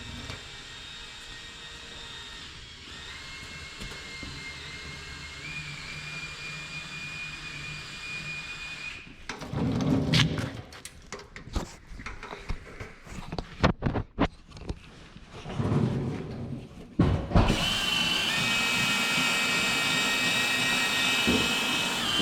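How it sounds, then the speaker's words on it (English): A power drill with a coarse sanding disc from a 3M headlight restoration kit grinds rough spots off headlight plastic, its high steady whine breaking into choppy bursts midway before resuming loud and continuous. "And what you're doing is grinding off the rough spots on these headlights."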